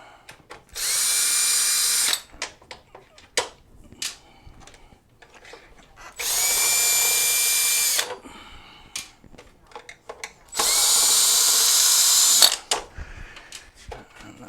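A power screwdriver backs out crosshead screws from the foot plate of an Enhance Mobility Mojo automatic folding scooter. It runs in three loud bursts of about two seconds each, close up, with small clicks and handling sounds between them.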